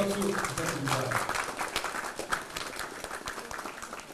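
A crowd at a Democratic Party anniversary ceremony applauds after a cake-cutting, a steady wash of clapping with voices mixed in at the start.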